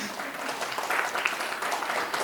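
Wedding guests clapping together at a party game, a continuous close burst of many hands with slight swells and a little chatter mixed in.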